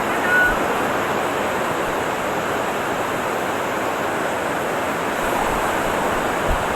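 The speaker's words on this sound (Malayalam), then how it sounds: "ഹൈ ടൈഡാണ്. വെള്ളം കരയ്ക്ക് കയറി കിടക്കുവാണ്." High-tide waves wash over the white sand of crescent-shaped Palolem beach in Goa, a continuous broad surf roar with no distinct breaks, steady and moderately loud throughout.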